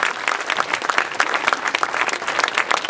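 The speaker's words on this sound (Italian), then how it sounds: "mi fate un applauso agli attori dietro" A theatre audience applauds the actors at a comedy premiere, with brisk, close clapping from many hands and distinct individual claps audible in a fairly loud, lively burst lasting a few seconds.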